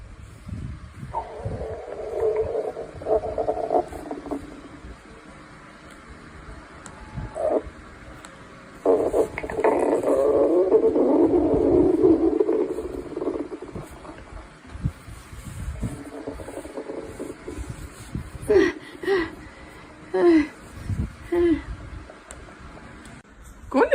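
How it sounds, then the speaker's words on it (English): Loud, drawn-out growling of a hungry stomach, rumbling swells rising and falling across the whole stretch, strongest in the middle and breaking into short gurgles near the end. "Your stomach's been louder than the bear hunting in the woods."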